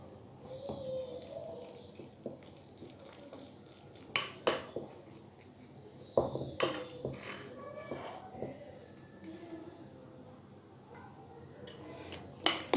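A thick besan batter is stirred in a bowl with an upside-down spoon, making intermittent clinks and knocks against the bowl between quieter scraping. The sounds come close and sparse, with no talk.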